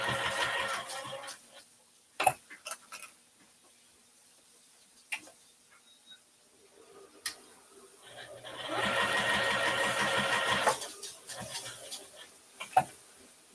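Sewing machine stitching a fabric shopping bag with back stitches, short bursts of rapid mechanical whirring separated by pauses, clicks and a voice talking in between.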